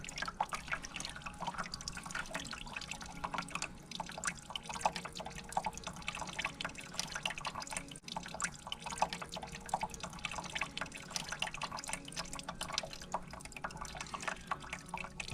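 Coolant draining out of the radiator of a 2005 Yamaha V-Max, a faint steady trickle and patter of liquid running continuously for the whole stretch with no speech.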